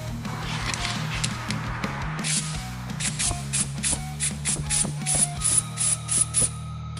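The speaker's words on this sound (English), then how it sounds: "blew some air in it and pushed the pistons out" Compressed air is blown into the front brake caliper of a Honda CR250R motorcycle, forcing the pistons out: a series of close, hissing air bursts with mechanical clicks, growing more rhythmic and pulsed toward the end.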